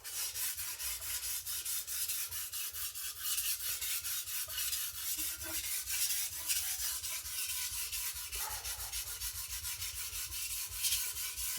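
A gyuto chef knife is sharpened in a long run of quick, rhythmic scraping strokes, close and steady with brief pauses, and no talk.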